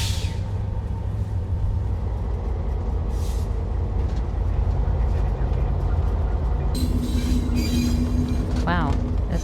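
Train rolling along the Lobito Corridor railway, a steady loud rumble of the carriage with rattling, a tonal whine joining partway through and a brief rising squeal near the end.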